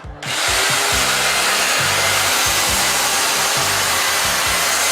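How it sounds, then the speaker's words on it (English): A high-speed drill whirs up and runs steadily with a feather duster attached, a loud continuous whine with a rhythmic fluttering thump underneath as the duster spins. "Get hold of your feather duster, attach it to your high-speed drill"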